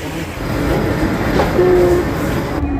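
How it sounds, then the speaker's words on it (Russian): A passenger train rumbles into a station loudly and steadily, with a faint metallic wheel squeal rising briefly before the sound cuts off. "Поезд уже идет."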